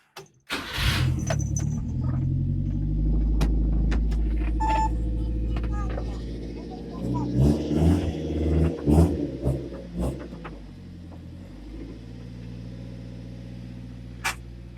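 A Subaru Sambar engine starts and settles into a steady idle while warming up before an oil change, a close, continuous small-engine drone with a few clicks and knocks over it.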